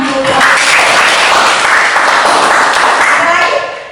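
A classroom of students applauds together, loud continuous clapping lasting a few seconds before tapering off at the end.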